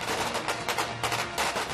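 Firecrackers set off in celebration crackle in rapid irregular bursts, a dense string of sharp pops lasting under two seconds with no talk.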